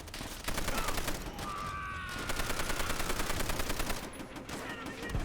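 A Type 99 machine gun fires in Call of Duty: World at War on the Peleliu battlefield, with dense rapid bursts of loud gunfire crackling almost without pause and a brief lull partway through.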